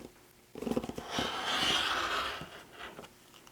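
Fabric being cut from a jelly roll for a quilted wall hanging: a short burst of crisp rustling snips and slicing, close and moderately loud, then softer handling noises.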